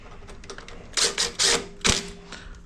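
Brake caliper bolts on a Camel ADV motorcycle, freshly coated in blue Loctite, being tightened with a ratchet: several short bursts of clicking, fairly close and clear, with a quiet workshop background and no talking.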